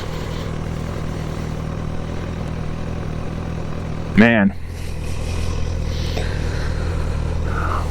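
A Honda CB1000R with its quiet stock exhaust idles and rumbles steadily underneath, with a brief sharper whine near the middle, while someone talks over it.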